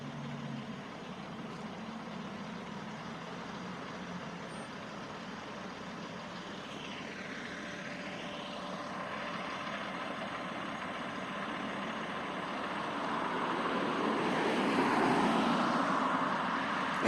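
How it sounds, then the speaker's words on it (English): Traffic idles backed up on Main Street in Loganville, truck engines rumbling at a steady, moderate level, with a passing vehicle swelling louder toward the end. "And now traffic is backed up coming north on Main Street"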